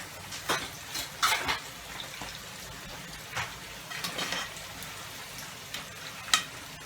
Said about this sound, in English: I think I'm gonna fry about one at a time